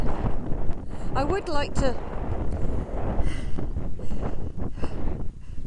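Gusty wind on an open hillside in the Quantock Hills buffets the microphone steadily beneath a person talking throughout.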